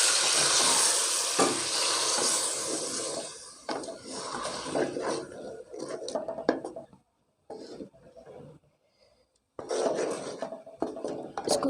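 Chicken pieces fry in a pot for yakhni, a loud sizzle at first with clattering stirs and scrapes of a utensil, fading into quieter stretches with brief pauses before sizzling resumes.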